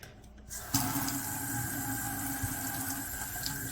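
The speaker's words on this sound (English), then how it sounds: "give a light rinse" Water runs steadily over potatoes being rinsed, a continuous close splashing rush that starts abruptly and holds at an even level throughout with no talking.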